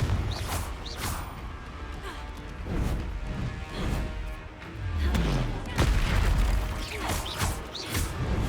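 Confringo explosion spells in Hogwarts Legacy go off as a dense run of crashing booms and bangs, one after another, loud and close with rumbling impacts and debris throughout.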